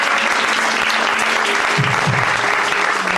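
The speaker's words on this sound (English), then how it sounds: "Let's give that an applause" Steady, dense applause from an audience at a careers talk, loud and continuous throughout with a few faint voices underneath.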